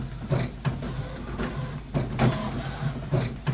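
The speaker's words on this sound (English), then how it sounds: "You can hear the print heads going back," HP Officejet Pro 8720 printer with its print heads and ink cartridges shuttling back and forth during setup, a close, moderately loud rhythmic mechanical whirring with repeated sweeps and clicks and no talking.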